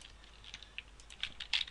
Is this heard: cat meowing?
no